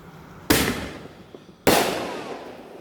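Two loud firework blasts, roughly a second apart, each a sharp close bang that trails off into a crackling, fading decay.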